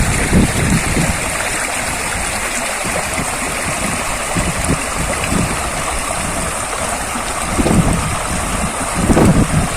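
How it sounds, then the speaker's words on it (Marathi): Small monsoon streams running through rice fields in Konkan after heavy rain, a steady close rush of flowing water with some wind buffeting the microphone and no voices. "जोरदार एकदा पाऊस झाला की कोकणात असे छोटे मोठे ओहळ आणि निर्झर वाहू लागतात"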